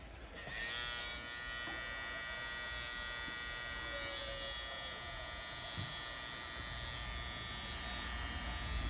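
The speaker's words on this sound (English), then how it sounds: "Then I'm gonna run this trimmer down to get rid of all the excess hair." Electric hair trimmer buzzing steadily while tidying excess hair on a mid skin fade afro haircut, a close, continuous motor hum with slight pitch shifts as it moves across the head.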